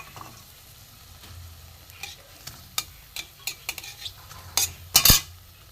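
Papad frying slowly in oil in a pan over low heat, a faint soft sizzle under a run of metal spatula scrapes and clinks on the pan that grow louder toward the end.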